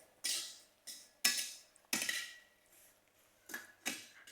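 A spatula scrapes a pan on low heat as vermicelli is stirred and roasted in melted ghee. Rhythmic scraping strokes come about every half second to second, close and fairly quiet.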